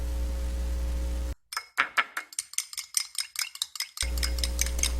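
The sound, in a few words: beating an egg in a bowl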